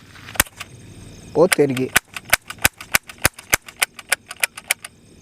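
Toy cap gun loaded with ring caps fires a rapid series of sharp, loud cracks, about fifteen snaps in quick succession after a short burst of excited talk.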